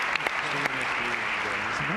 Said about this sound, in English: Please, round of applause for our incredible panel.